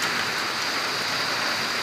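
Heavy rain pours in a steady, even hiss with no breaks, close and fairly loud, with no voices.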